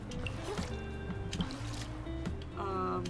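Soft, wet squishing and dripping hops across lily pads in the Infinity Nikki video game, a quick series of light watery plops under steady background game music.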